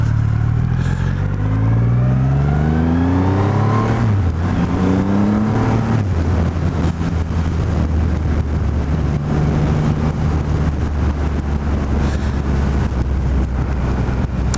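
A 2020 Triumph Rocket 3 R motorcycle engine revs up in rising sweeps through the gears on a test ride, then settles into a steady, loud drone under heavy wind rush.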